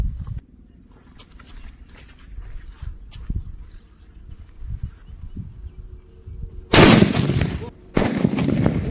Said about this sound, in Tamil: தரமான வெடிங்க, இது சூப்பரா வெடிச்சது